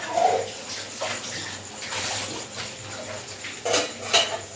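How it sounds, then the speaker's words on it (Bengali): Water pours and splashes into a pan of matar paneer curry in a village kitchen, with a gushing, hissing flow, light metallic clinks and a couple of louder splashes near the end. "এবারে একটু জল দিয়ে দেবো"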